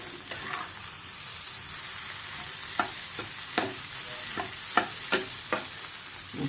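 Shrimp bread pakora fries in a pan with a steady, soft sizzle, broken by sharp clicks and scrapes from stirring at irregular intervals, close up and with no talking.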